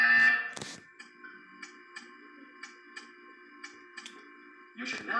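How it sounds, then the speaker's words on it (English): A video game buzzer sounds as a short series of sharp, evenly spaced electronic beeps over a steady tone, with brief louder bursts at the start and end. "You will hear a buzzer."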